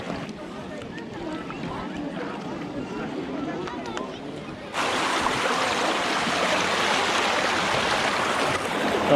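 Thermal water flowing across the travertine terraces at Pamukkale, Turkey, a steady rushing wash that becomes noticeably louder and fuller halfway through, with faint background activity throughout.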